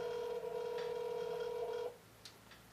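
A telephone rings with a steady electronic tone that holds for almost two seconds and then cuts off, leaving a quiet room with a couple of faint clicks.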